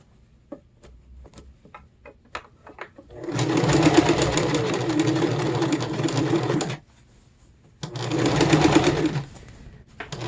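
A sewing machine stitches down the inseam of a pair of simple elastic-waist medieval-style pants, running loud and steady in two bursts, one long and one short, with a few faint clicks before it starts.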